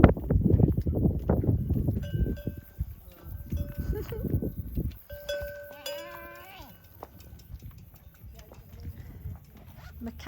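A goat bleats in a few short wavering calls outdoors, with a clanking bell and shuffling hooves around it, after loud nearby movement and handling noises.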